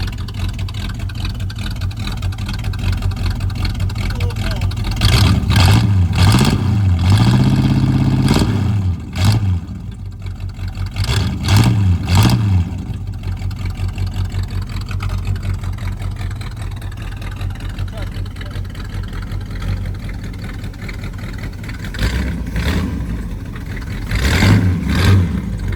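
Ratty big block Ford Thunderbird engine, sitting for two years with starter issues, revving in a few rising bursts over a steady rumbling idle, close and loud.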